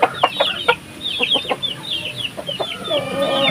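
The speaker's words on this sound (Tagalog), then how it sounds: "Ayan, mga nakakulong pa yung mga sisiw." Caged chicks and native crossbreed chickens clucking and peeping in quick, high chirps, close and fairly loud, with a brief rooster-like call near the end.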